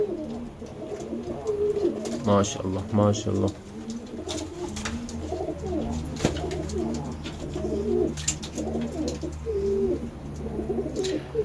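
A male pigeon coos repeatedly in rolling, throaty phrases, close by, while a person speaks briefly over it.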